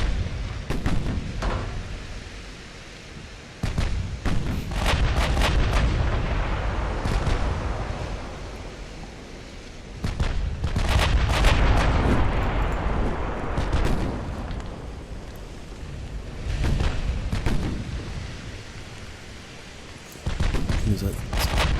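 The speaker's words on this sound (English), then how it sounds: "Just 16-inch guns." Heavy booms and rumbling blasts from 16-inch battleship guns firing in the naval video game Ultimate Admiral: Dreadnoughts, loud salvos recurring every few seconds with quieter gaps between them, while someone talks throughout.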